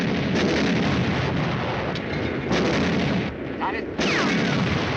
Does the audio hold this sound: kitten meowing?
no